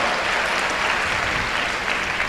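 A crowd of students at a campus event claps steadily and densely for a couple of seconds, a loud wash of applause with no voices over it.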